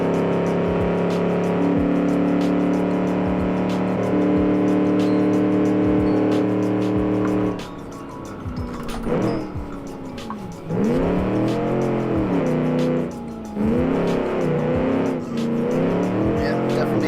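A 1946 Gasmea race car in the Automation car game roars at sustained high revs, then drops off and rises again through repeated revving bursts with wheel spin, loud and close.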